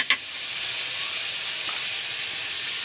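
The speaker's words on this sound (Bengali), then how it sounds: "এক চামচ গাওয়া ঘি যেটা বাড়ির তৈরি আমি সেই ঘিটা অ্যাড করে দিচ্ছি" Spoonful of homemade ghee added to payesh, a milk rice pudding, cooking in a pan: a steady soft sizzling hiss runs throughout, with a small clink at the very start.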